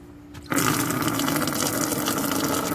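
Fluid draining from a Pontiac Grand Am during a fluid change, a steady rushing splash of liquid that starts abruptly after a brief quiet moment and continues loud and unbroken.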